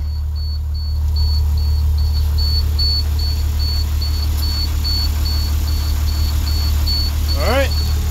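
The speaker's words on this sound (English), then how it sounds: "I'm going to let it do a normal idle. I'm not going to high idle it." A shop engine idling at normal speed after a start, a loud, steady low rumble close by with a repeating high-pitched beep over it and a brief whistling sweep near the end.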